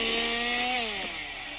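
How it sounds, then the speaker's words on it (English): A chainsaw in a maze horror video game buzzes loudly with a steady high whine, its pitch bending downward near the end as it fades slightly, heard alone without talk. "Yay, more chainsaw things."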